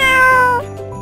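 A cat meows in a long, strong call that bends in pitch and then fades, heard alone and close as part of an animal alphabet learning game.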